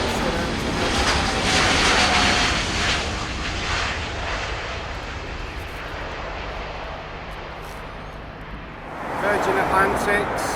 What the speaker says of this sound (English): There you go, the Airbus A350 Finnair